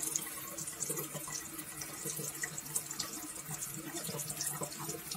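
Warm water running from an Oasis KP-P tankless water heater at a country house, a steady splashing tap flow, close and fairly quiet, continuous with no speech.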